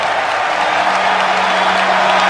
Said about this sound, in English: the fans greet him with a round of applause